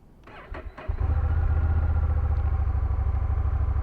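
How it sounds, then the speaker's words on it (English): A 2021 Honda Rebel 1100 DCT parallel-twin motorcycle cranks with a few brief starter bursts, then catches and settles into a loud, steady, pulsing idle close by. "let's get her cranked up and see how it feels on the road"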